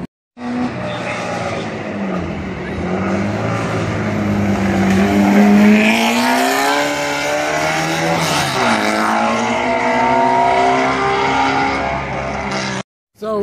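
An Alfa Romeo racing along a town street during a head-to-head race event, its engine loud and close, revving and rising in pitch as it accelerates past, with tyre noise and a brief pause before the clip ends.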